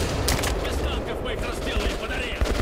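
Heavy machine gun fire in the video game Metro: Last Light, a dense, loud, continuous rattle of rapid shots that fills the whole stretch, with voices partly audible underneath.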